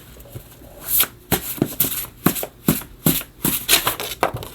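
A deck of oracle cards being shuffled by hand, with a steady run of crisp riffling bursts and soft slaps repeating roughly every half second, close and fairly loud with no talking.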